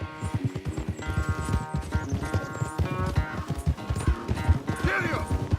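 Horse galloping in Red Dead Redemption 2, rapid rhythmic hoofbeats throughout with music and a faint voice underneath.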